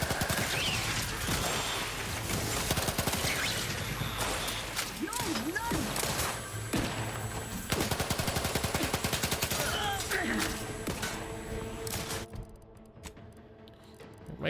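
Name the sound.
goo gun firing in the video game The Outer Worlds 2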